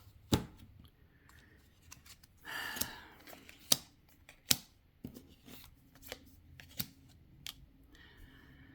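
Tarot cards being block shuffled by hand give a series of sharp, separate snaps and taps spaced irregularly across a quiet room, with one short rustling burst midway.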